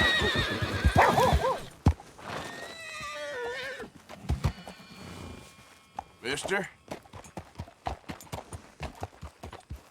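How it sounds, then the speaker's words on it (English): A horse whinnies loudly up close with a long wavering neigh, then snorts and neighs again, while hooves clip-clop in an irregular walking rhythm; a person briefly speaks in between. "That's a fine horse you got there."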